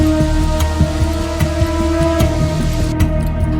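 Heavy rain pours steadily onto a washed-out road, a loud continuous hiss with scattered sharp drop impacts and a low steady hum beneath, no voices.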